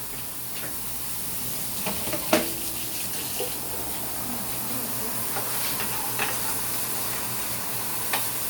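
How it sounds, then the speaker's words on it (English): Steady, dense sizzling of onions frying in a hot pan, continuous and fairly loud, with a few faint clicks. "I'm going to add me some onion. As you can see it or hear, it's already sizzling"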